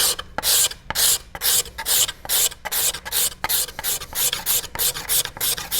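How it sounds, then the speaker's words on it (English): A sharpened steel cabinet scraper pulled along the bamboo backing of a bow: a loud, close, rhythmic series of about a dozen harsh rasping strokes, each separated by a brief pause, with no voices. "What's happening is the cabinet scraper is touching on both sides, but not the middle yet."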